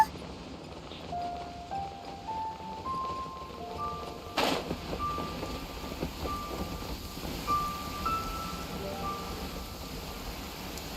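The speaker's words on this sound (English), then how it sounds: "It's raining again? Oh, this isn't good." Steady rain falls in the Genshin Impact game world, a soft continuous wash at moderate level with no talk, plus a brief louder burst partway through and faint tonal game sounds layered over the downpour.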